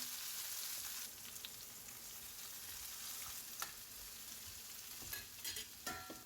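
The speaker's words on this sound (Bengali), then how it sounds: "একটু ভাজা ভাজা হলে ক্যাপসিকামগুলো দেব।" Ginger paste and capsicum frying in oil for vegetarian gobi Manchurian: a soft, continuous sizzle close by, with intermittent scraping and clicking of a spatula stirring in the pan.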